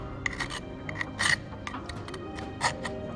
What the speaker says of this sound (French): tu peux encore y aller avec une lime à bois